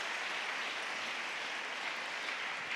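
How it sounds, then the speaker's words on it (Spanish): Steady applause from a crowd at a national church congress, a dense even patter of clapping that holds at the same level throughout. "Dale un aplauso al Señor."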